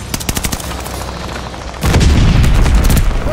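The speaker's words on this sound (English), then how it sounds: "Friendly bombing run on the way." A friendly bombing run in Call of Duty Vanguard, heard as rapid close gunfire that gives way to a loud, sustained rumble of heavy explosions.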